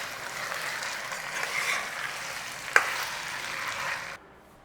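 Chicken frying with chilli in ghee, stirred in a pan: a steady close sizzle carries on with one sharp utensil tap partway, then cuts off abruptly.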